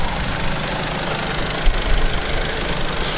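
An Audi S3 engine runs steadily with a loud, even mechanical rumble and hum, recorded close by without voices.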